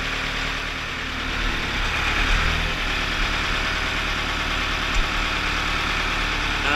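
A Ford 6610 tractor engine labours up a wet hill while loading fertilizer for planting, a steady mid-pitched diesel drone with a faint knock, close and continuous with no talking.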